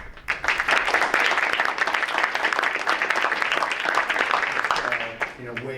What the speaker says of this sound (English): I do want us to stop and give Mark a big round of applause tonight